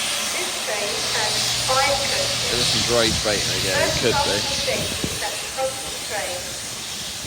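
Steam locomotive 6103 Flying Scotsman readying to depart York for Newcastle, a loud continuous steam hiss filling the scene while someone talks over it nearby.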